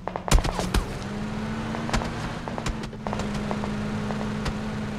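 Gunfire in PUBG on a desert map: a burst of sharp automatic shots near the start, then scattered single and double reports over a steady low engine drone, with a few more distant cracks later.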